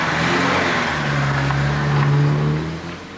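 A car pulls away with a smooth, rising engine hum that swells, holds, and then fades near the end, with no voices.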